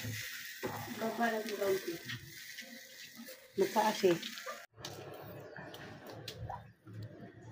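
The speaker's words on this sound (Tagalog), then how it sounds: "Chicken wings na inihaw." Chicken wings grill over a barbecue, crackling and sizzling in uneven bursts close by, with brief gaps and shifts in level as they cook.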